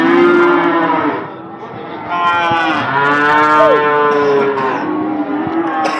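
Heifers at a livestock market in Imishli moo loudly and close by, with long drawn-out calls overlapping one another, while faint crowd noise runs underneath.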